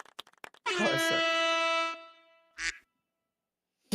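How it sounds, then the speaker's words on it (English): A duck quacking: after a few sharp clicks, one long drawn-out nasal quack is followed by a short second one, loud and alone in near silence. "this is the duck quacking an actual sound"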